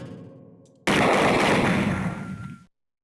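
A loud, dense burst of rapid gunfire from the shooting sequence of Snatcher on Sega CD erupts after a quieter lead-in, blazing for under two seconds before cutting off abruptly into silence.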